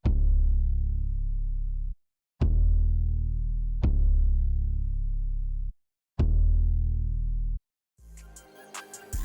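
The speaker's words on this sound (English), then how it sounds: "So for this last sound, I just grabbed a bass from Pilgrim's Kit." Max Bass synth bass sample from Pilgrim's Kit: deep sustained bass notes struck in four separate hits with short gaps between, loud and clean, followed by a brief burst of a busier beat at the end.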